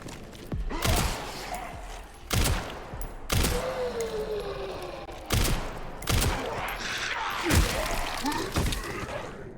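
Gunshots in Resident Evil 4 land as several sharp, loud bangs at irregular intervals, each with a short echoing tail over a steady game backdrop of rumble and ambience.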